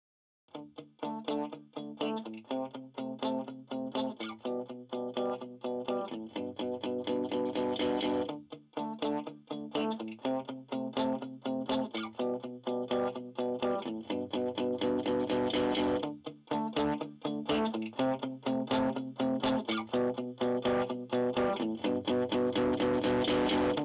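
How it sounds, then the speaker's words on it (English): Heavily driven distortion from the REDD 17 console plugin at high drive colours a steady rhythmic musical part, with dense, gritty harmonics sustained loudly throughout and only brief dips between phrases. "drive at higher settings, you move into the realm of distortion as effect."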